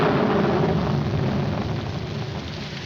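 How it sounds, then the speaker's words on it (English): Steady broadband rain hiss, loud and close throughout with no talk, easing slightly toward the end. "Put this top up. It's going to rain."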